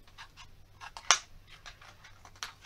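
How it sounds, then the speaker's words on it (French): Scissors cut out a paper piece for a Stampin' Up card in a quick series of close, dry snips, with one sharper, louder cut near the middle. "On appuie bien et on va découper."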